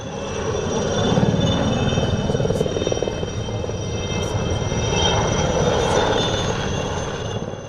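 An IAR-316 helicopter flies overhead at Romania's BIAS 2019 airshow, a continuous loud engine and rotor drone that swells and eases slightly as it passes.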